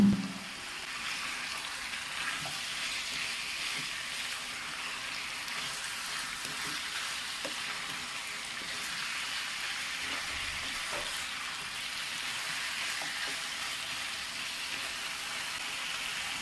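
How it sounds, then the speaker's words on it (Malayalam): Diced potatoes sizzle and fry in a pan for chicken shorba, a steady crackling hiss with soft scraping stirs, close and even throughout with no talk. "ഉരുളക്കിഴങ്ങ് കൂടി ഇട്ട് കൊടുത്ത ശേഷം വീണ്ടും നമുക്ക് നല്ലതുപോലെ ഇളക്കി കൊടുക്കാം."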